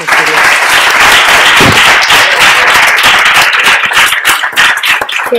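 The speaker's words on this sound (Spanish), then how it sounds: "yo creo que cerramos con un aplauso para, para" An audience applauds to close a literary event, loud sustained clapping from many hands, dense and continuous throughout.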